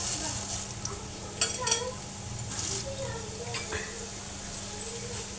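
Homemade flattened rice (chira) fries in oil, a soft continuous sizzle close by with occasional light clinks of a utensil against the pan and faint talking in the background.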